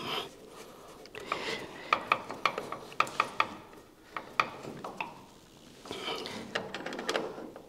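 A ratchet clicks in short bursts as bolts are snugged up on a 1985 Ford F150 taillight, the quiet pawl ticks coming close by in an otherwise calm space.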